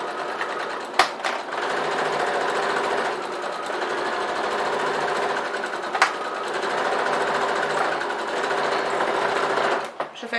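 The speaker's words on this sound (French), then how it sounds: "Donc c'est parti pour la couture." Sewing machine stitching fabric, a loud, close and steady mechanical whir that runs almost without a break, with a couple of sharp clicks and a stop near the end.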